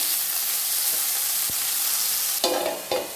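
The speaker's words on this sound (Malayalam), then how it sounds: "പിഴിഞ്ഞ് എടുത്ത് വെച്ചിരിക്കുന്ന ജാവ ആപ്പിൾസ് ചേർത്ത് കൊടുക്കാം. തിന്നായിട്ട് അരിയണം. ചേർത്ത് നന്നായിട്ടൊന്ന് വഴറ്റി കൊടുക്കാം." Chopped java apples sautéing in a hot pan with salt, a steady loud sizzle throughout, broken near the end by a few sharp stirring scrapes and clatters.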